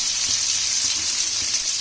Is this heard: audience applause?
no